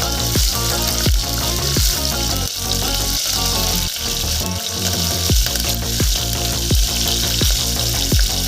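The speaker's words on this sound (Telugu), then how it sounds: "ఇందులోనే పచ్చిమిర్చి అండి, ఒక 8-9 పచ్చిమిర్చి వేసుకోండి. వేసి వేయించుకున్నాము." Eight or nine green chillies frying in hot oil in a pan, a loud continuous sizzle with sharp clinks of a spoon stirring at a steady, regular pace.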